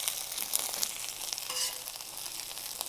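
Eggplant slices frying in olive oil in a pan, a soft, even sizzle with scattered faint crackles, fairly quiet and continuous throughout.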